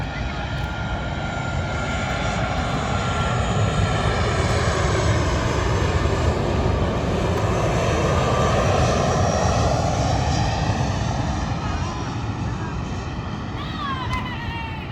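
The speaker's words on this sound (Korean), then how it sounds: "비행기 왔다." An airplane flies low overhead near Naha, a loud continuous engine roar that swells and slowly fades over fifteen seconds, with people talking faintly beneath it.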